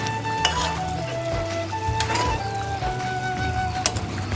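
Rohu fish curry broth with drumsticks and potatoes bubbling and sizzling steadily in a pan as fried fish pieces go in, with a low continuous simmer and occasional metallic clinks of a utensil.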